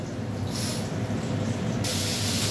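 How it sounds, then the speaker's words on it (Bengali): Hilsa fish head frying in hot oil for a kochur shak dish, giving a steady loud hiss that brightens toward the end, with no talk. "দেখো এখানে ইলিশ মাছের মাথাটা ভেজে দিচ্ছি"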